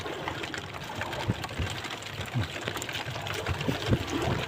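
Steady rain patters and trickles close by, a soft continuous wash with scattered drips and splashes.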